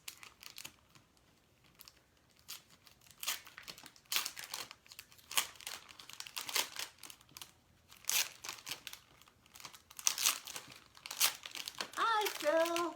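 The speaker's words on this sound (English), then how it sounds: "Open up this package." Crinkling and rustling of plastic packaging being handled and torn open, with bursts of crackle and a few snips, fairly close.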